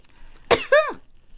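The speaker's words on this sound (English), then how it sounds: "Don't cough." A single person gives a short, sharp cough in two quick bursts, close and fairly loud against a quiet room.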